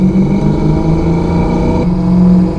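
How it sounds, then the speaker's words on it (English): A 1990 Ford Mustang GT with a 5.0 V8 and Flowmaster mufflers gives a loud, steady, throaty exhaust rumble with a shift in tone partway through. "We're gonna go ahead and downshift to second. Get a little exhaust note. Gotta love those Flowmasters behind a 5-liter."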